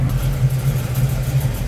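A 1972 Chevrolet Camaro SS engine idling with a deep, steady, slightly lumpy rumble, close and loud, with no voices.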